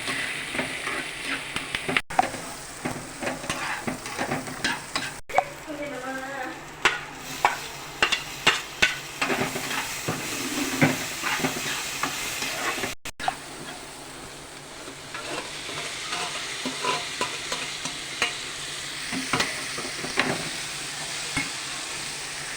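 Chilli, curry leaves, garlic, onion and tamarind fry in a pan for a Tamil pirandai chutney, giving a steady close sizzle with repeated stirring scrapes and clatters throughout, while a voice speaks faintly at times.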